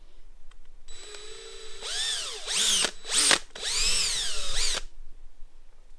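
A power drill bores through the mounting for an SW-Motech tank bag on a Kawasaki Z650 motorcycle, whirring up in several short bursts with rising and falling pitch, close and fairly loud with brief pauses between.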